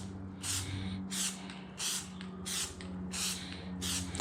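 A spray paint can hisses out a coat onto a Genesis Coupe hood vent in about six short, evenly spaced bursts, close and clear against a low background hum.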